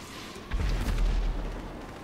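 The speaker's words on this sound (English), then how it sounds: "he is shooting a million effing missiles" A missile explosion in the game GTA 5 lands as a deep, rumbling boom that swells and slowly fades, heavy and muffled at mid distance.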